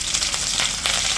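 Green chilies hit hot oil for a cabbage stir-fry, giving a brief, steady, close sizzling hiss with light crackle throughout and no speech.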